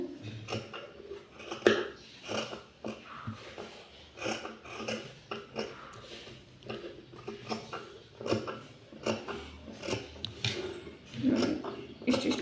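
Scissors snipping through cloth to make piping, a run of close, crisp cuts and small clicks repeating in an uneven rhythm with no talk.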